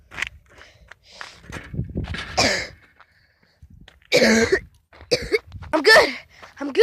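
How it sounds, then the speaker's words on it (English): Several harsh coughs with some throat clearing from a person playing outdoors in nature, coming in short separate bursts after a quieter stretch, close and fairly loud. "Totally coughing."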